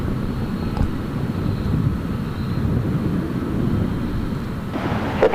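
An RV-7 light aircraft flies past at Gold Coast Airport, its engine a steady broadband drone held at an even level throughout, with wind rumble and no voices.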